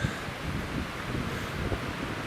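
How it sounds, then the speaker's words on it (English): Steady wind buffeting the microphone, a constant broadband rush with low rumbling gusts and no voices. "It's a little windy up here."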